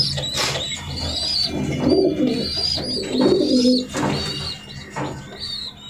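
Racing pigeons of a 2023 BRBFC ring batch coo repeatedly in low, throaty rolls, with faint chirps and higher bird calls layered over a steady background murmur.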